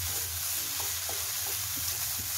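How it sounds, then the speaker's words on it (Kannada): Onion and tomato fry in a pan for methi paratha: a steady, close sizzle runs throughout with soft stirring scrapes on top, and no voices. "ಸ್ವಲ್ಪ ಚೆನ್ನಾಗಿ ಫ್ರೈ ಆಗಬೇಕು ಈರುಳ್ಳಿ ಟೊಮೆಟೊ ಇದೆಲ್ಲ"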